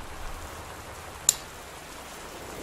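Soft, steady video game rain patter heard from indoors, with a faint hiss throughout, plus one sharp little tick midway; quiet and even, no voices.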